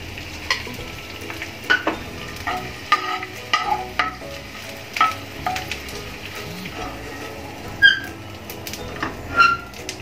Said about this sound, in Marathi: आपण असा सगळा डिंक आता तळून घेऊ